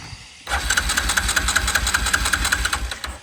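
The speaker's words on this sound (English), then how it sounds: "We got good cranking. And she's alive." An old Mud-Pro engine cranks briefly and then catches, settling into a loud, close, throbbing idle with a rhythmic knocking pulse that continues steadily.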